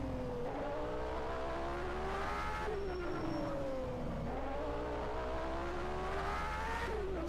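1991 Formula 1 race cars in a racing video game at the United States Grand Prix, overtaking with sustained high engine whines that rise and fall through gear changes, several cars layered close together, loud and continuous with no talking.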